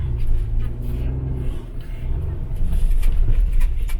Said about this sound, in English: Sand mode. Drive around in the sand.